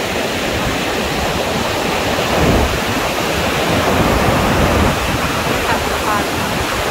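A large waterfall in Italy pours down in a dense, steady roar close by, loud and unbroken throughout, with no voices heard over it.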